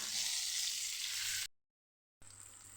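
Green chilies fry in a pan with a loud, steady hiss and crackle, cut off by a short gap of silence before the sizzling resumes.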